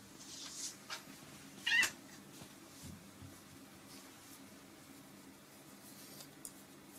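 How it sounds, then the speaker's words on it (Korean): An indoor cat meows, asking to be let through a door, giving one short, faint cry amid soft background hum, with a couple of quieter stirrings before and after. "고양이가 자꾸 열어달라고 울고 있어요"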